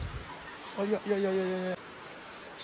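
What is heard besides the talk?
small birds chirping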